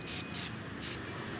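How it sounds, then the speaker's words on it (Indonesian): Hand-pump garden sprayer misting weeds along a neighbourhood roadside, three short hissing bursts of spray over a steady low background, close and fairly quiet. "sekali-sekali saya mesti memompa dengan pompa tangan manual"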